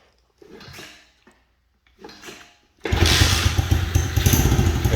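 An SSR 110/125 pit bike takes two short, grinding kick attempts against stiff compression, then fires and settles into a loud, rapid, close-up small-engine putter.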